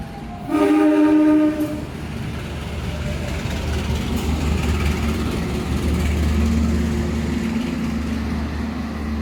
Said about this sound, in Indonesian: Majapahit masuk jalur 3.